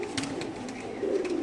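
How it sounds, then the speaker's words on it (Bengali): Pigeons cooing at a pigeon farm, soft repeated low coos rising and falling close by, with a steady background hum and no talk. "খুব সুন্দর সুন্দর কবুতরগুলো দেখেন আল্লাহর রহমতে"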